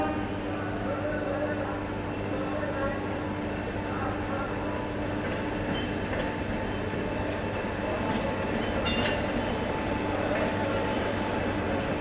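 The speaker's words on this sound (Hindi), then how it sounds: "ये है आपकी हावड़ा अहमदाबाद एक्सप्रेस। इसका डिपार्चर हो गया 4 नंबर प्लेटफॉर्म से बिलासपुर जंक्शन के।" The Howrah Ahmedabad Express pulls out of platform 4 at Bilaspur Junction, its generator car droning in a steady humming tone beneath rolling wheel rumble and faint clatter, with voices in the background.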